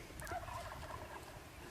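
A wild turkey gobbles in open country near Spokane, Washington during a hunt, a short rattling call heard once at moderate distance over quiet outdoor background, with no talking.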